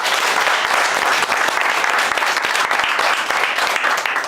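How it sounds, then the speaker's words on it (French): A crowd at a sales and business gathering claps for itself, a loud, dense and steady wash of applause that fills the whole stretch with no voices above it. "Applaudissez pour vous-même"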